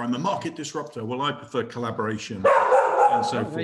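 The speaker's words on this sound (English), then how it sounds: "that's the dog going nuts" Dog barking excitedly in the background at a home, rapid repeated yaps and barks overlapping someone talking, growing louder toward the end.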